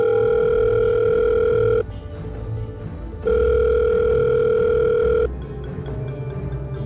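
A mobile phone rings in a pocket as a story sound effect: two long, loud electronic tones separated by a short pause, close and alone.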